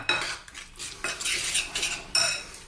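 A utensil scrapes and clinks against a bowl while stirring spice paste for Indian fried fish, in quick uneven strokes heard close with no talking.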